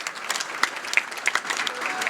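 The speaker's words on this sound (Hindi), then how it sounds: "जोरदार तालियां हो जाएं" An audience at a public event for prize winners, with the Chief Minister present on his birthday, breaks into applause: dense, steady clapping from a sizable crowd, close and loud throughout.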